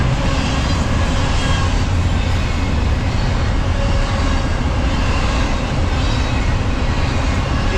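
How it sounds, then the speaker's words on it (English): A freight train passing through an East Texas town, a loud, unbroken roar and rumble of wheels and cars that holds steady throughout without any talk. "It's not your old school freight train."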